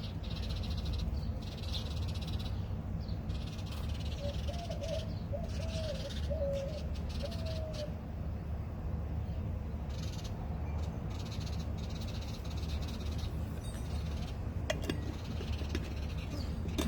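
Birds calling in the distance, a short series of repeated cooing or croaking notes over a steady low outdoor rumble.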